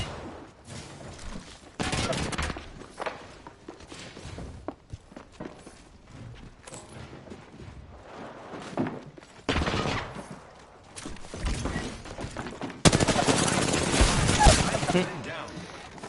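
Gunfire and combat noise in the battle-royale game Apex Legends come in scattered loud bursts between quieter stretches, with footsteps and a voice talking underneath.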